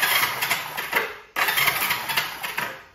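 A vintage motorcycle engine cranks and fires, sputtering unevenly, cutting out briefly, then catching again with a rough, rapid putter; close and fairly loud, no talking.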